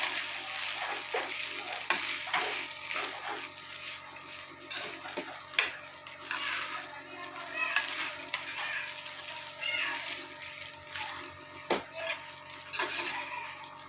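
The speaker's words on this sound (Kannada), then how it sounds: "ಇವಾಗ ಅನ್ನ ಸೇರಿಸ್ಕೊಂಡೋಗೈತೆ ಮಿಕ್ಸ್ ಮಾಡ್ಕೊಳ್ಳೋಣ" Cooked rice stirred into a coconut rice mixture in a pan gives repeated scraping and soft sizzling strokes, with light clinks of a utensil against the pan throughout.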